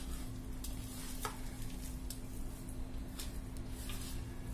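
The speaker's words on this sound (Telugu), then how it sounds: "ఇలా కలుపుకోవాలన్నమాట, గట్టిగా కలుపుకోవాలి పిండిని" Wheat flour pakodi batter is worked firmly by hand, giving soft, steady squelching and stirring noise with a few sharper wet slaps, close up and without talk.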